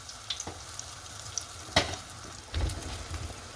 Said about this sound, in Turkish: Evet lokmalarımızı pişiriyoruz